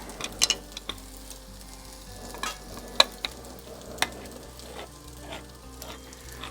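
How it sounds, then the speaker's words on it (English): Bologna sauce sizzles quietly in a pot on the stove while a spoon stirs it, with a few sharp scrapes and clinks against the pot over a soft, steady fry. "Don't leave it on the bottom without stirring it, flipping it over."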